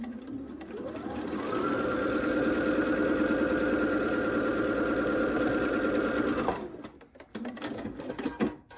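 A sewing machine stitches a quilt seam in a steady, fast mechanical whir that runs for about five seconds and then stops, with brief handling noises after it.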